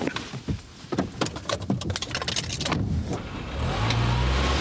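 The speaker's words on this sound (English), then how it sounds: "Now start the car." A car engine starts after some clicks and jangling keys, catching in the final second and settling into a low, steady idle close by on a cold November night.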